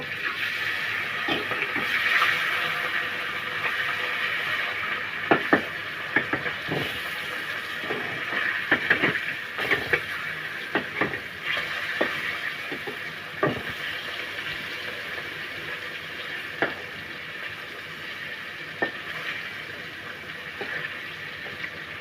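Hilsa fish sizzling steadily in a hot pan, a continuous bright hiss broken by scattered pops and clinks of a utensil against the pan, close and fairly loud, with no talk.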